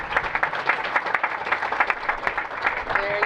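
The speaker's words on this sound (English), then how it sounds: "So I'd like to give a round of applause for that man for letting me be who I am." An audience at a city's State of the City address gives a round of applause, dense steady clapping from a crowd, close and loud throughout.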